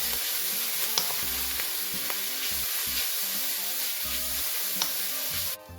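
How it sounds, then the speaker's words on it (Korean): Dried squid strips being stir-fried in olive oil over low heat, a steady soft sizzle with light stirring scrapes throughout, close up and without talk. "기름을 3스푼을 넣었습니다. 그리고 이렇게 볶아주세요."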